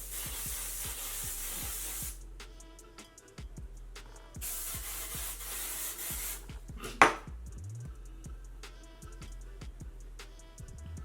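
Two long hissing bursts of hair spray, each about two seconds, separated by quieter rubbing and handling noises, with a sharp click near the middle.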